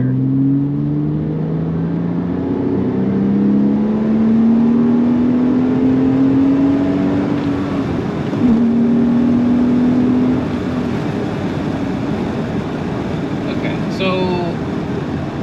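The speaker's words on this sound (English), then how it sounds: "as the car revs out, it doesn't pull crazily more" A Porsche 987 Cayman S engine revs hard while accelerating in third gear, its close, continuous tone climbing steadily in pitch, with a brief dip partway through before it keeps rising.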